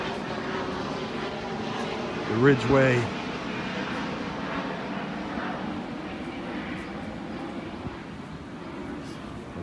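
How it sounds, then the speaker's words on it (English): A private jet near Naples airport, Florida, passes overhead as a steady, distant roar over an outdoor farmers market, with someone speaking briefly. "Lots of private jets coming in and out of Naples"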